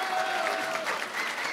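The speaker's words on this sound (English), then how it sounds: "Let's give them a round of applause." Audience applause at a university Founders Day convocation, a steady wash of clapping filling the hall at moderate level, with a faint sustained tone running beneath it for the first half.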